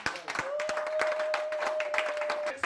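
A church congregation claps and cheers, a dense patter of hand claps with a sustained voice ringing over it, moderately close and lively.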